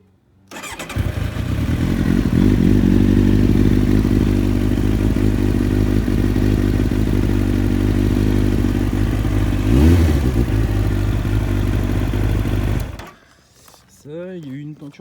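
A 2000 Kawasaki ZX9R motorcycle engine fires up almost at once and runs at a loud, steady, throbbing idle before cutting off, followed by a brief voice.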